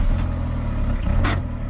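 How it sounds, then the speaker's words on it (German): Car engine running after being started, a steady low rumble with a close, continuous mechanical drone and a brief higher burst partway through, no talking. "Erstmal anmachen und zeigen, wie der Motor läuft."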